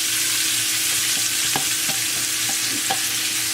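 Onions and garlic fry in a skillet with spices, giving a loud, even sizzle close by, with a few light knocks of a utensil.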